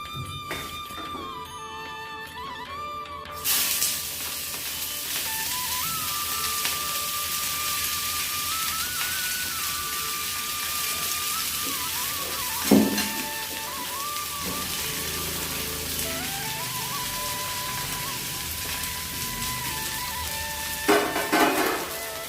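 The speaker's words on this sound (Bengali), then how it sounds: "এখন এটা আগে বাঁধাকপিটা ভালো করে ফ্রাই করে নেব।" Cabbage frying with spices in a wok, a steady broadband sizzle running throughout, with a few brief thunks and scrapes from stirring; no voices.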